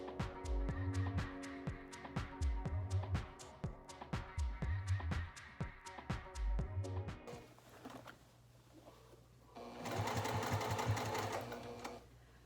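Sewing machine stitching a reusable fabric gift bag: rapid, evenly spaced mechanical clatter runs for several seconds, pauses briefly, then ends with a short, louder burst of stitching.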